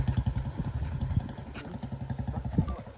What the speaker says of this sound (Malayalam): അതാ ബൈക്കിൽ പോകുന്നതാണ് നമ്മുടെ നടൻ